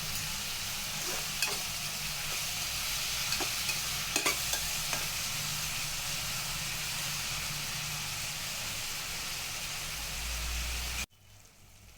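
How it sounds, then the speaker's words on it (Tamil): Tomatoes sautéing in oil in a pan sizzle continuously up close, with occasional spatula scrapes and stirring knocks before the sound cuts off near the end. "இப்போ நல்லா தக்காளி வதங்கிடுச்சு"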